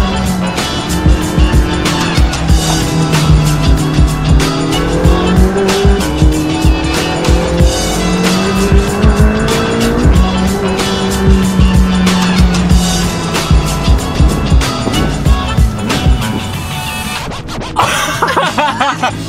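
A McLaren 675LT sports car driven hard, its engine roaring loudly and continuously with rising and falling revs, gear changes and tire noise over about twenty seconds.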